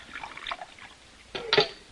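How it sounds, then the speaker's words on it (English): Coffee poured into a cup in an Old West setting, a short liquid splash and trickle near the end following a quiet stretch, close and alone. "Pour the coffee."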